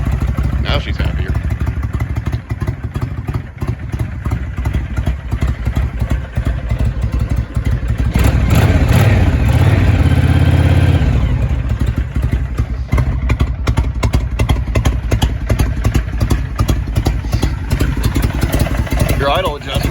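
A 2005 Honda VTX1300R motorcycle idles steadily after a cold start, a loud close engine rumble running throughout with brief revving swells midway, while someone talks over it.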